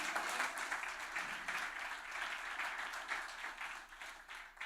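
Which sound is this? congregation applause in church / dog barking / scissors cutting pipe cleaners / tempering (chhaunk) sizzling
congregation applause in church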